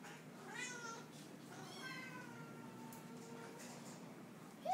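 Soft meows from a big kitten recur through the clip, some rising and some falling in pitch, heard fairly close and mostly alone, with a brief louder sound at the very end.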